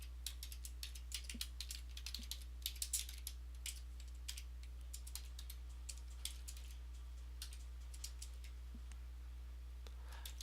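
Computer keyboard typing as code is entered, quick light key clicks in irregular bursts, fairly close but soft, over a low steady electrical hum.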